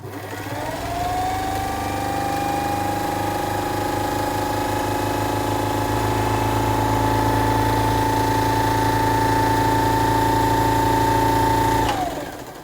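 A Bernina 117L sewing machine stitches a narrow zigzag: the motor spins up, hums steadily with a fast rhythmic ticking of the needle for about eleven seconds, then winds down and stops.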